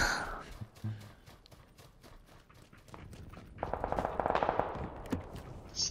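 Gunfire in the PUBG battle royale game from an M16 rifle, rapid bursts of shots rising in intensity toward the end, mixed with game ambience and movement sounds, fairly loud and close.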